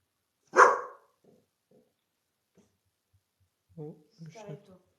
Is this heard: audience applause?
no